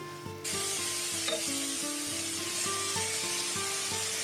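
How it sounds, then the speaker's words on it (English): Chopped onions hit hot olive oil in a pan and burst into a loud, steady sizzle that holds close and continuous for several seconds, with soft music running underneath. "add your chopped up onions and fry until soft and translucent over a gentle heat"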